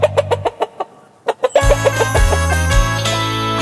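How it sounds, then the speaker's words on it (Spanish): Cartoon chicken clucks from a children's farm animal song, a quick run of short repeated clucks that pauses, then returns as loud music with singing kicks in. "La gallina hace co co."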